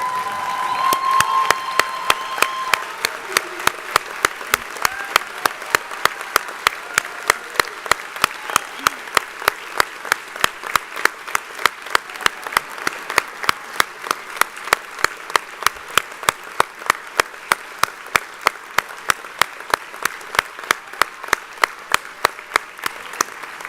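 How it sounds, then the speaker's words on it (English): Sustained applause from a graduation ceremony audience standing to honour faculty at a journalism school commencement, steady dense clapping throughout with some cheering early on and a regular rhythmic pulse running through it. "we should applaud them, but I think we should stand up to do it"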